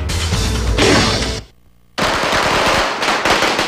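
Illegal firecrackers go off for New Year in the Philippines, a dense crackling barrage of rapid loud bangs that breaks for half a second, then resumes as a continuous popping roar.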